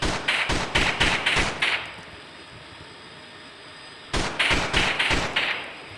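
Quick pistol shots from a USP Match in the Gorebox game: a sharp run of about seven evenly spaced cracks, a pause filled with a faint hum, then another close run of shots.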